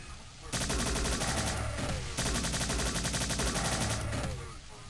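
Rapid, loud gunfire from the video game Strife, sustained automatic bursts that hammer on with one short break, as enemies are shot down.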